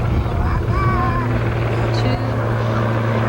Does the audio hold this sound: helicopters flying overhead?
yes